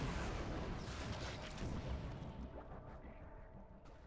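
Dull booming explosions rumble across a StarCraft II map, a broad thundering roar that fades over a few seconds, with no talk over it.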